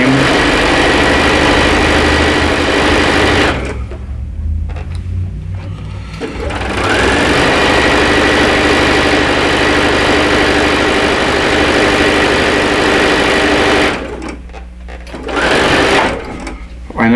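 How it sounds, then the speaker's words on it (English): A domestic sewing machine stitches a quilt block seam with a fast, steady mechanical whirr, close and loud. It stops briefly twice. A person talks over parts of it. "I know some people will sew over their pins, so I don't like to."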